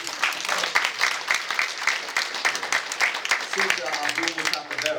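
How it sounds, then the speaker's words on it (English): A banquet crowd applauds Grandmaster Lumumba with steady, lively clapping while a voice keeps talking over it. "Give him a round of applause."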